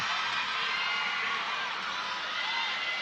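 A crowd in a volleyball arena during a 2025 PVL Reinforced Conference match roars in a steady, dense wash of cheering and shouting throughout, loud and continuous with no distinct break.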